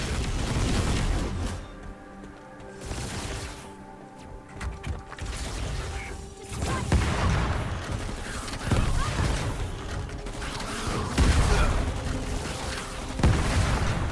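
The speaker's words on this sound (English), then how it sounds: "what I like about the rocket launcher is how surprising it is and how fast it bursts through enemies" A rocket launcher fires in the video game Anvil Mountain, setting off repeated booming blasts and bursts amid dense, continuous game noise, with loudness swelling and dipping throughout.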